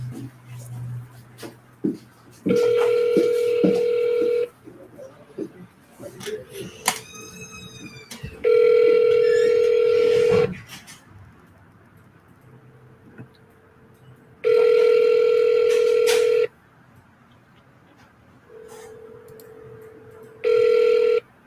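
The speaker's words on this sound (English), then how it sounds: "Nope. No answer. Rings through. No voicemail." An outgoing telephone call rings through unanswered: steady ringback tones in evenly spaced bursts of about two seconds, with faint background clatter between them.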